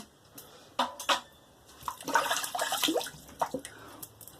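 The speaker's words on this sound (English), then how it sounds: "Let me rinse my face and I'll be right back" Water splashing as a face is rinsed at a sink after shaving with shave soap, with a few distinct splashes followed by a longer stretch of running, sloshing water close by.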